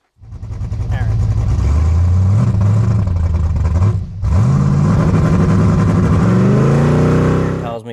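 An LS-swapped Ford Fairmont's V8 roars loudly up close as the car spins around on the road, revving hard with a brief dip before climbing pitch again; a voice speaks over the engine.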